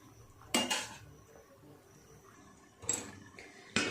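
A metal lid comes off a simmering cooking pot in a home kitchen, giving three sharp, fairly faint clanks and scrapes separated by quiet pauses.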